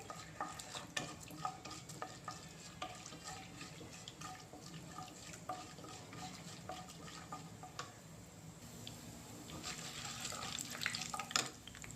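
Mustard seeds frying in a pan with other ingredients for a Telugu dondakaya ginger fry, a soft steady crackle and sizzle with light stirring clatter and brief water-like sounds, fairly quiet throughout.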